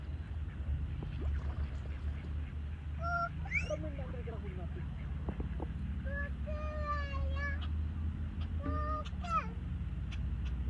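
Ducks being fed at Love Lake in Al Qudra, Dubai, give bursts of harsh quacking and honking calls, some close and loud, over a steady low background rumble with intermittent talk.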